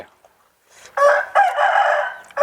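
Roosters crow at a farmyard where eggs are being collected, with two long, loud, close crows following a faint opening, over a quiet background.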